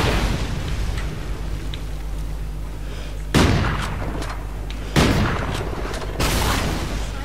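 Gunfire in Call of Duty Ghosts, with three sharp loud shots spaced a second or so apart over a low droning game background, each followed by a brief ringing tail.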